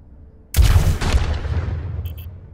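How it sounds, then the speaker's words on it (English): A volley of Helix Rockets from Overwatch strikes targets with an abrupt, loud explosive blast and a second close impact, leaving a rumbling tail that slowly fades, with no talking over it. "Using it launches a volley of rockets in the direction you are aiming. The rockets explode on contact."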